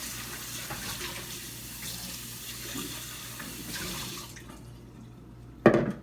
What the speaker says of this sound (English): I'm going to just rinse this out